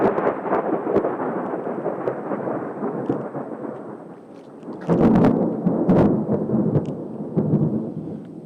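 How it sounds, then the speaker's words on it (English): An outdoor thunderstorm with rain: a steady hiss of rainfall carries deep rolling thunder, then around the midpoint a louder, closer crack and rumble breaks out, followed by further sharp bursts and rolls. "I'm about to get poured down, rained on, but hopefully lightning don't strike me before I finish this video"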